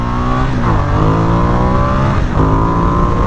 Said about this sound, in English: Let's go, baby, on this Ducati Xdiavel